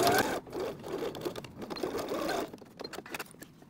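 A sewing machine stitches through a cork pencil case to reinforce a corner seam, a quiet, steady, close whirring that eases off near the end, with no talking.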